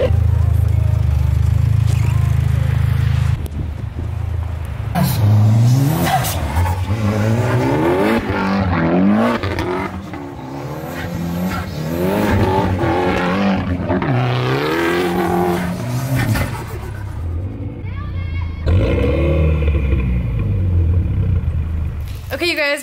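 Subaru STI driven in snow, its engine revving hard and rising and falling in repeated bursts, loud and close, with a steady low rumble at the start and brief speech-like sounds in between.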